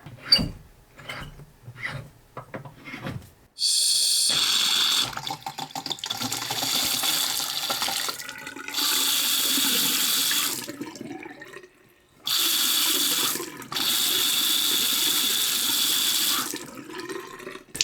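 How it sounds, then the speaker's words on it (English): Water runs from a bathroom corner sink faucet in an old house, gushing in three loud, steady bursts separated by brief stops, with a few soft clicks and knocks before the flow starts. "I'll turn on the water."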